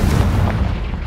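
A Confringo blasting curse goes off in a Hogwarts wizarding video game, a dense, booming low-end explosion that rumbles steadily for about a second, loud and close with no talk over it.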